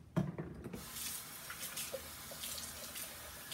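A kitchen faucet runs into a sink while a container is rinsed with dish soap, a steady close stream with small splashes and clatter at the start.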